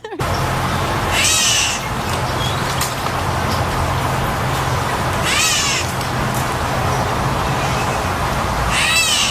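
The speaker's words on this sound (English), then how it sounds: "They also have a meow call, hence the name Great Catbird." A great catbird gives three nasal, cat-like meow calls spaced a few seconds apart, clear and fairly close over a steady low background hum, with no talking.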